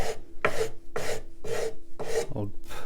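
Sanding wooden guitar binding by hand with a block, six rhythmic rasping back-and-forth strokes about half a second apart, close and crisp with no talking.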